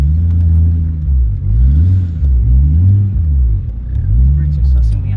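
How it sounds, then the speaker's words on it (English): A BMW E36 engine revs in rising and falling surges with a loud, steady low rumble as the tires hop and spin during a burnout, close and continuous throughout. "Tires are really hoppy. Like it just wants to spin though."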